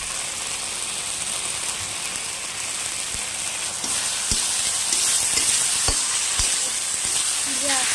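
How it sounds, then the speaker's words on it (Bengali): Spice masala with salt and chilli powder fries in oil while being slowly stirred for a village-style chicken dish, producing a constant crackling sizzle. Clear spoon scrapes come in during the second half and get slightly louder. "দিয়ে আস্তে আস্তে নাড়তে থাকি যতক্ষণ না হালকা একটা তেল বেরিয়ে আসে"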